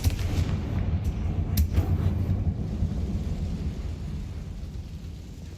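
A Confringo fire spell in Hogwarts Legacy erupts in a deep rumbling blast with a couple of sharp crackling bursts early on, then rolls off into a long, fading low boom.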